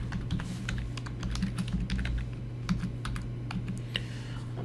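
Steady typing on a computer keyboard while entering a customer address into a form, dense rapid key clicks over a low constant hum from the room or machine, with no talk.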